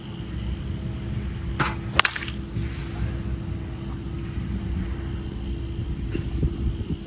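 A wooden baseball bat cracks sharply against a ball about two seconds in, with a fainter knock later, over a steady low outdoor rumble.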